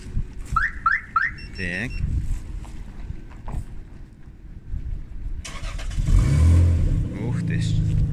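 A Lexus GS300 is started by remote alarm: several short alarm chirps, then the engine cranks and settles into a steady idle, close by with brief talk at the start.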